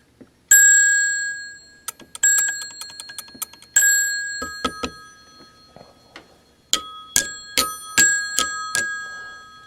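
The metal gong bell inside a 1955 Western Electric 500 rotary telephone is struck repeatedly, bright ringing strikes in bursts and rapid trills with ringing decay, close and loud, with faint handling noises between.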